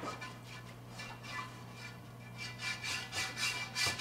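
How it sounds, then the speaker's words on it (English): A chainmail scrubber rubs residue off a cast iron pan in repeated close scraping strokes, a rough rasping rhythm that grows louder toward the end over a low steady hum. "use her chainmail with this a nice light sort of feel to it. And she's going to just get any of the residue off of that pan"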